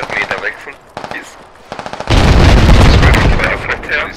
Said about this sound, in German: Artillerie kommt, Jungs, geht die Deckung.